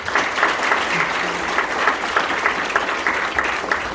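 Steady audience applause at a union delegates' annual meeting, a dense sustained clapping from a large hall crowd holding an even level throughout, with no talk over it.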